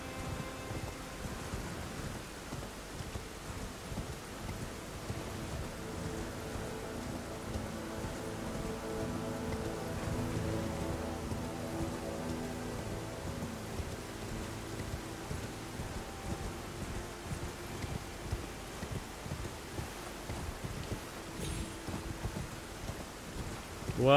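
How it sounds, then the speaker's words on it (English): Steady rain falls in Elden Ring, a continuous hiss with low rolling thunder swelling midway, constant and close, with no talking. "Love the rain."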